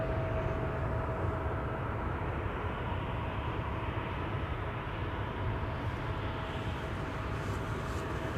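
A Boeing 737-800 airliner at Amsterdam Schiphol gives off a steady, distant low roar that holds evenly throughout with no talking.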